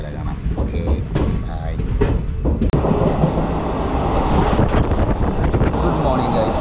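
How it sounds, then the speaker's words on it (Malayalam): A train pulling slowly out of a station gives a loud, steady rolling rumble with rhythmic clacks and wind buffeting close to the microphone. "സ്റ്റേഷനിൽ നിന്ന് പതുക്കെ ട്രെയിൻ നീങ്ങി തുടങ്ങി"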